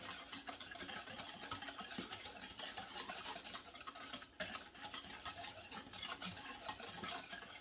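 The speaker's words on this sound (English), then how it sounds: "mix with a small whisk" A small whisk mixes bourbon, apple cider vinegar, brown sugar and seasonings for barbecue sauce, a faint, quick rhythmic stirring and clicking in a bowl that continues steadily throughout.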